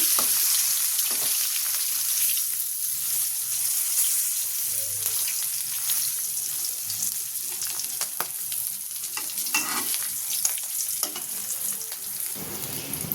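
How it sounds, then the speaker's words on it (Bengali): Hilsa fish tail frying in hot oil, a steady close sizzle with crackling spatters running throughout, with no talk. "তো দেখতে পাচ্ছেন মাছটা আমি প্রায় ভালো করে ভেজে নিচ্ছি"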